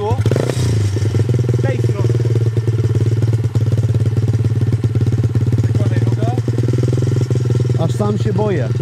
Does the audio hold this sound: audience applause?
no